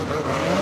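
Race cars roll through a pace lap at a circuit race, a loud, close mass of engines droning and rising slightly in pitch, with no voices.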